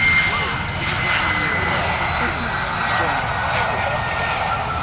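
F-16 Fighting Falcon fighter jet engine roaring during an air show flight demonstration, a loud steady broadband rumble that holds for the whole stretch, with an announcer talking over it.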